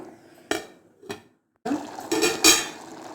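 A metal lid set onto a pot of ulava pappu (horse gram dal): two sharp separate clinks, a short silence, then a longer clattering scrape and rattle as the lid settles, close and fairly loud.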